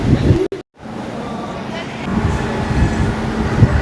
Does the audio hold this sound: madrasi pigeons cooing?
no